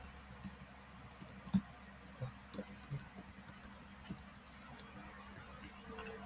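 Keys on a computer keyboard clatter softly in short uneven bursts of light clicks, close but quiet against a low background hum.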